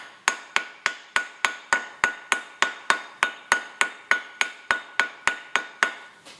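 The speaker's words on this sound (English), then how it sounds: "Just keep hammering around the top" A double-sided coin ring is hammered around its top edge on a ring mandrel over leather, giving a steady run of about twenty sharp metallic strikes at an even, brisk rhythm, close and clear with no talk.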